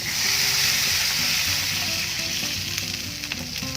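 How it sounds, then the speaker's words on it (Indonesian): Water poured into a hot pan for tteokbokki sizzles and hisses steadily throughout, a loud, close frying crackle with a faint bubbling underneath. "Langsung saya masukkan air 1 gelas."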